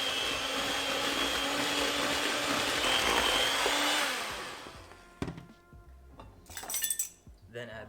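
An electric mixer whirs loudly and steadily through cookie dough for about four seconds, then stops, followed by clinks of utensils and bowl.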